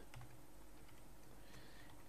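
Someone types on a computer keyboard while entering PHP form code. Soft, quick keystrokes come in a loose run over a quiet background, with no voices.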